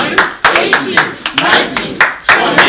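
A conference audience claps in a quick, fairly regular rhythm to cheer someone on during a push-up challenge. The sharp, loud, close claps come in bursts while a voice shouts encouragement over them.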